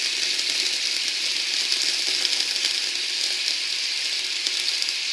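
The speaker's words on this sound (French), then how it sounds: "je rajoute mon rhum. On fait attention parce que, comme vous pouvez le voir, ça en met partout et on flambe" Rum flaming over caramelized bananas in a hot pan gives a steady, even hiss and sizzle that holds at the same level throughout, with no talking.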